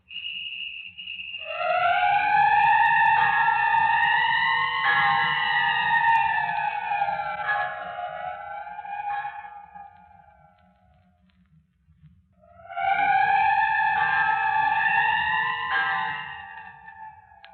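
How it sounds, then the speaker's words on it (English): A shrill whistle sounds in a radio drama, two long wavering blasts, the first about eight seconds and the second after a brief pause, loud and close with a low rumble underneath. "Don't you hear the whistle?"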